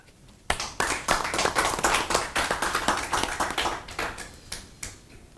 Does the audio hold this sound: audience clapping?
yes